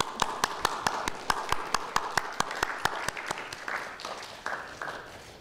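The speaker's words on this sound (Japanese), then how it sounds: "まずをもって大きな拍手をお願いします。" An audience at a press conference marking Shohei Ohtani's return to Japan after his fourth season with the Angels gives a round of applause. Sharp, evenly spaced claps stand out near the microphone over a softer crowd wash, thinning and fading toward the end.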